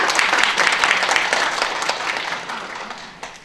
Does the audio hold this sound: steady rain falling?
no